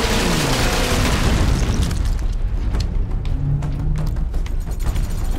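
Gunfire and heavy blasts in the Warhammer 40k Space Marine video game, a loud booming explosion fading into scattered sharp shots and rumbling combat noise.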